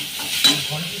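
Chicken and vegetables for a momo filling frying in a pan, a continuous sizzle with a brief stirring scrape near the middle.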